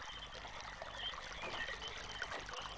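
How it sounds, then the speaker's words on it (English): Water trickles and pours steadily through pipes in the video game realMyst, a soft continuous flow heard alone at moderate level. "we now have water sound"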